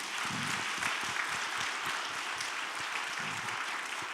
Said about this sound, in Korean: 여러분 마음을 모아서 박수해 주시기 바랍니다